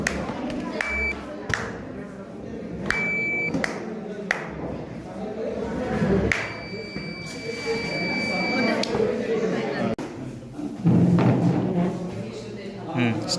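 A small electronic buzzer in a school tinkering lab gives several short tonal beeps and one longer sustained tone, heard among thumps, handling noise and people talking.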